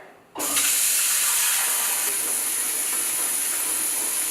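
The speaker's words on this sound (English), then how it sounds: "I'm just going to go ahead and plug up my sink and fill it with really cold water" A sink plugged and filled with really cold water from the tap: a steady, loud rushing hiss starts abruptly and pours on evenly, close by, with no voices.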